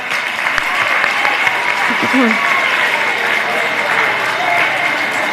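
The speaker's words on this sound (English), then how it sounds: "give a round of applause to all the parents that helped you out with these projects" Middle school students at a science fair applaud their parents, a steady, full round of clapping from a roomful of people with faint voices underneath.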